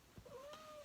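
A pet cat gives one clear, rising-and-falling meow close by, indoors during a tarot card reading, with a brief soft sound before it.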